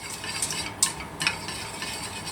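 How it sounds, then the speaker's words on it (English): A spoon stirs flour into onions frying in oil in a pan, giving soft scraping sweeps and a few light clinks of utensil on metal over a steady low sizzle. "Blend it in with the onions."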